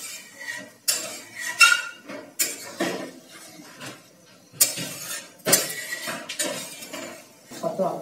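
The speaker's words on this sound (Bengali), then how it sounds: "কড়াইয়ের সাথে খুব ভালো করে মিশিয়ে নেবো।" A spoon mixes boiled dried peas for ghugni in a metal pan, making irregular close clinks and clanks against the pan, with a few louder knocks and quieter scraping between them.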